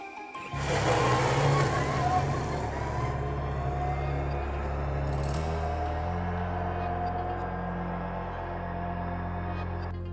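An electric-converted CF-moto X8 ATV takes off on asphalt with a sudden rise of motor whine and tyre noise that stays strong and steady as it speeds away; a voice speaks faintly.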